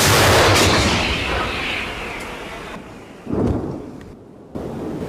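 A heavy D-30 howitzer boom opens loud and rolls away slowly, followed by two shorter, duller thuds a moment later.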